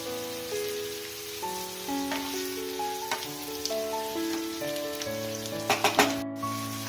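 Tomatoes frying in a pan with a pinch of salt, a soft steady sizzle sitting under sustained background music, with a few sharper clinks near the end.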